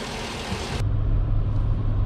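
A car out on a test drive after a transmission fluid change gives a steady, close low rumble of engine and road noise that grows fuller partway through, with no talking.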